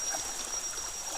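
A river flows with a soft, continuous watery rush and faint trickling, fairly quiet and steady, with no talking.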